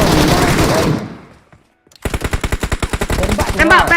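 Rapid bursts of automatic gunfire in PUBG Mobile, a loud sustained volley after a brief lull, with a quick run of sharp repeated shots and faint voices mixed in.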